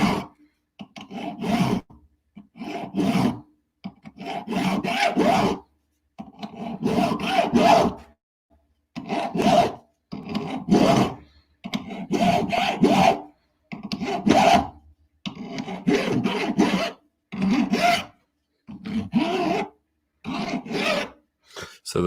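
Metal file rasping across a bronze dagger blade in a workshop, about a dozen firm back-and-forth strokes in a steady rhythm with short pauses, close and loud, no talking.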